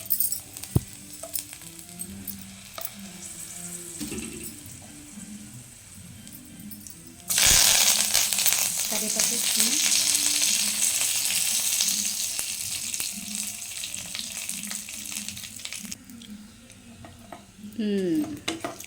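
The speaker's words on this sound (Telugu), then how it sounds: "కొద్దిగా ఆవాలు వేసుకుందాం జీలకర్ర వేసుకుందాం ఎండుమిర్చి వేసుకుందాం" Mustard seeds, cumin and dried red chilies hit hot oil in a pan for a Telugu tempering, bursting into a loud, steady sizzle and crackle partway through, preceded by quieter stirring and clinks of utensils.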